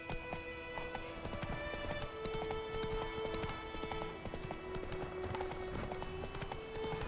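Hooves of Geralt's horse Roach galloping in The Witcher 3, a fast steady clip-clop rhythm that runs for several seconds over game ambience and music, close and clear.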